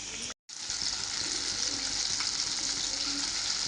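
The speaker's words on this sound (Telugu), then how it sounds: "ఇలా చక్కగా వేయించుకోవాలి." Chicken popcorn fries in a shallow layer of hot oil with a loud, continuous, close-up sizzle that starts after a brief silent gap at the very beginning.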